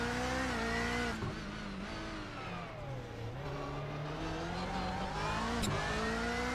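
Rallycross race car from a video game sliding into a corner, its engine revving and rising and falling in pitch throughout, with a brief sharp burst near the end and no talking.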